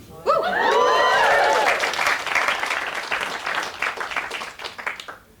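An audience bursts into warm applause for Lenny Ravitch, nearing his 90th birthday, clapping loudly at first and then thinning toward the end, with a voice speaking briefly over the opening.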